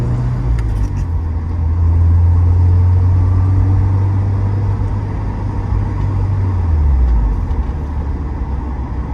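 Steady engine drone and road noise from a 1990 Porsche 944 S2 Cabriolet with a five-speed, cruising on a highway; a loud continuous hum whose pitch holds level and then drops near the end as the car eases off.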